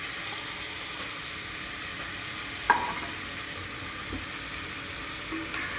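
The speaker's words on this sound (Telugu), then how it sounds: "నేను కట్ చేసి పెట్టుకున్న ఆనియన్స్ వేసేస్తున్నాను" Chopped onions hit hot oil in a pan for a ridge gourd mutton gravy and fry with a steady broad sizzle, one sharp clink of utensil on pan and light stirring scrapes, close and continuous with no talking.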